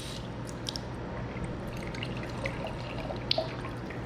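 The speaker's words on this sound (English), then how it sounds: "we're gonna fill this flask with water" Water is poured gently into a glass flask for a gas density chemistry demonstration, a faint, soft trickle with scattered drips and small clinks, close by and without talk.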